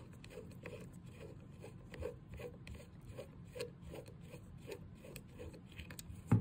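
Threaded extended tuner barrel of a Home Defence HDP50 less lethal launcher being unscrewed by hand, giving a soft, steady run of close rubbing and rasping ticks with a faint thump at the end.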